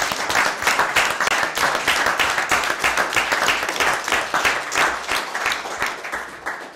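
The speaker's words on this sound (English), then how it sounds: "give him a big round of applause if you're okay with that" A city council meeting audience gives Lyle a round of applause, dense and steady clapping from many hands that continues throughout without talk.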